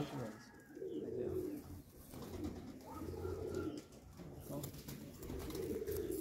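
Rare pigeons on a rooftop during a pigeon show coo in repeated low, throaty bursts, close and fairly clear, while people talk faintly in the background.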